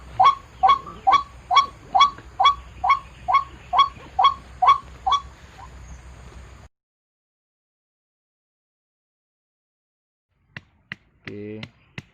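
A recorded white-breasted waterhen call is played as a lure beside a swamp, a loud rhythmic series of repeated harsh notes that stops abruptly, followed by silence and a few brief clicks and noises.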